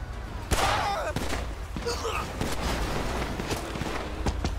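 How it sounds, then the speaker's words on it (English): Gunfire in GTA V with the LSPDFR police mod: sharp shots crack out in a burst near the start, then scattered single reports and footsteps follow over a steady low background rumble. "I'm being shot at."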